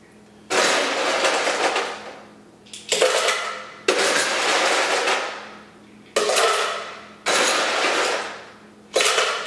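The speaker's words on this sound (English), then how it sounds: "Now what I just did was I used a 2-ounce ice scooper." Regular freezer ice being scooped with a 2-ounce ice scoop, several loud rattling crunches of cubes in bursts, each fading off before the next, close by and without talk.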